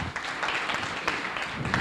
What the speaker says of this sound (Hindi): कविता के लिए तालियां.